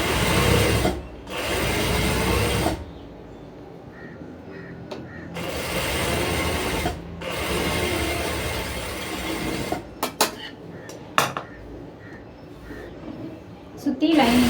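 A sewing machine stitches around a sleeve lining in several whirring runs of a few seconds each, with short pauses between them and a voice talking at times.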